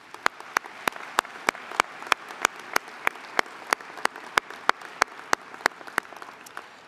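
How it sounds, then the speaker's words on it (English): Sparse applause at a winter commencement ceremony, a few hands clapping in a steady, evenly spaced rhythm of sharp claps over a quiet hall, moderately distant and without voices. "Let's give them a round of applause."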